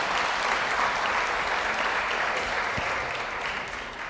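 An audience at a civil society assembly and award ceremony applauds steadily, a full, even wash of clapping from a large room that fades slightly at the end.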